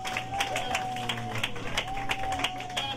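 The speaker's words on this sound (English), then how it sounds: "Give yourselves a round of applause." Audience at a church rally breaks into applause, with dense clapping from a crowd mixed with voices and a sustained tonal note in the background.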